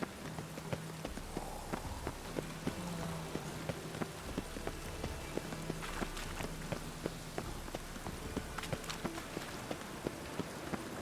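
Rain patters steadily on surfaces in the game Witcher 3, mixed with a regular clip-clopping of hooves, moderately quiet and continuous without speech.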